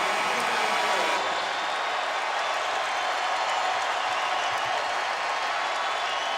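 A packed basketball arena crowd at a Kansas Jayhawks game roaring after a turnover, a loud continuous wall of cheering that holds steady throughout.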